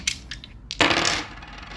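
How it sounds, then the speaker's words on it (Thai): Dice rolled during a Thai tarot reading land with a few quick, light clattering taps, then a louder rattling burst as they tumble and settle, close up with no talking. "เดี๋ยวแม่หมอขอสุ่มลูกเต๋าเพิ่มนะสำหรับคุณกองที่หนึ่งเนาะ"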